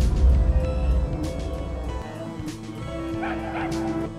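A small puppy, a hellhound changed into a dog, yips and whimpers while being tickled in a quiet suburban London wood; the dog sounds come in short bursts over a steady, fairly loud background.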